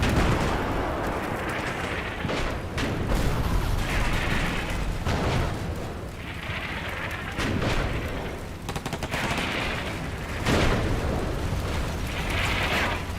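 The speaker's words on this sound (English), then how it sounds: "Oh, here come the mortars. That's what these explosions are." Mortar explosions in the strategy video game Combat Mission: Cold War, heavy booming blasts and rumbling gunfire bursts recurring every couple of seconds over a dense battle din, no one talking.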